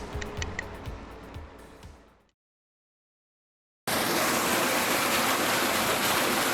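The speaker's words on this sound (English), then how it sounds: "If you can hear me, because the waterfall is pounding pretty hard." A loud, constant roar of falling water fills the second half, after a quieter stretch of rustling and brief silence.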